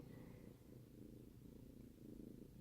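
A four-month-old kitten purrs, a soft, continuous low rumble in steady rhythm that is close and quiet, with no other sounds.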